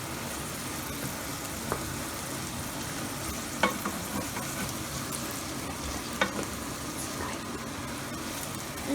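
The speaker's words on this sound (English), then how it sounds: "Let the bean and the onion fry." Beans and onions fry in a pan for an Udupi-style uppittu breakfast, giving a steady, even sizzle with a few faint stirring clicks, close up and without talk.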